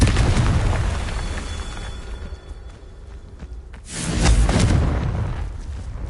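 A Confringo blasting spell explodes in the Hogwarts Legacy video game, a loud, heavy rumbling blast that swells and fades, then a second booming burst a few seconds later, with no voices.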